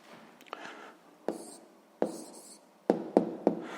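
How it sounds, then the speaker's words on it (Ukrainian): Pen writing down a math answer by hand on paper, close and quiet: soft scratchy strokes broken by several sharp taps and scribbles in an uneven rhythm, with no talk. "Записуємо тоді відповідь."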